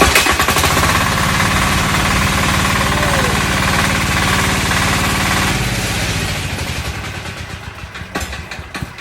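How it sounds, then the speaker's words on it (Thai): A large 11 hp diesel engine, hand-started by a mechanic, runs with a loud, steady knocking chug for several seconds before slowing and fading toward the end. "เครื่องยนต์ดีเซลใหญ่ 11 แรงม้านะคะ ลองให้ ช่างสตาร์ทมือดู ดูแรงเหวี่ยงของการสตาร์ทนะคะ"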